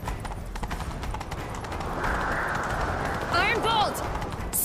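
Horse galloping in a video game, steady rapid hoofbeats with a short whinny near the end, under character dialogue.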